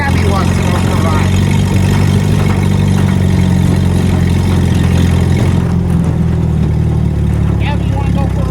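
A WWII Jeep engine runs loud and close, with a heavy, steady rumble and some rising revs over the idle throughout.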